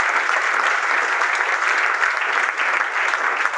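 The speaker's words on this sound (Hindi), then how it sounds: "तो मैं चाहूंगा एक बार जोड़ा तालियां श्रीवास्तव जी।" An audience at a Janshakti Group seminar claps for Srivastava, a steady round of applause that holds evenly throughout with no speech on top.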